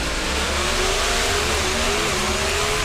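Top fuel dragsters with 500 cubic inch engines screaming at around 10,000 RPM at an NHRA drag race, a dense, loud, continuous roar with rising engine pitch throughout.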